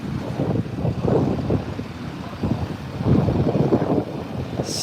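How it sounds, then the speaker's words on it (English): Steady, gusty wind buffets the microphone in low rumbling surges, swelling and easing in waves on a cold day outside a slaughterhouse in Toronto, with no voices present. "On a cold, windy day."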